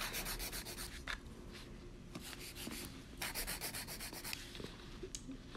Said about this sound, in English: You don't want to use your coarse side of your file for this.